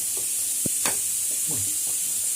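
An egg sizzles in a frying pan as it is flipped, with soft scraping and clicking of the turner over a steady hiss of frying, no voices.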